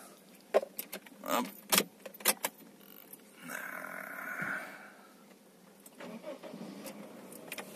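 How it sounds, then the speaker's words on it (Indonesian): A 2004/2005 Suzuki Baleno nex-G facelift starting up: jingling keys and clicks first, then a brief cranking burst as the engine catches and settles into a quiet, low idle, heard from inside the car. "Kita nyalakan mesinnya"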